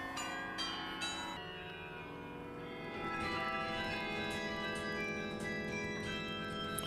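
Carillon bells ring out a melody across a Belgian town, several struck tones with long overlapping resonance, heard at a moderate distance with no voices.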